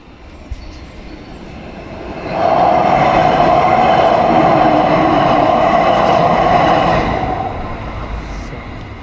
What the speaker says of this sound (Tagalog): Yung train na dadaan dito papuntang